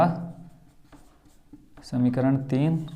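An equation is being written on a board, with scratchy writing strokes running beneath a voice that keeps talking throughout.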